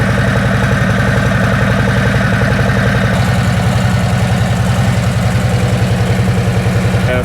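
A motorcycle engine idles loudly and close by, a steady, rapid low thumping pulse that holds throughout with a slight shift in tone partway through.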